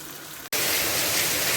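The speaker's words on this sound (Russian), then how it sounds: "Друзья, смотрите, какой дождь у нас." Heavy rain pours down outdoors at a countryside homestead as a steady, dense hiss that jumps suddenly louder after a short break and then holds even.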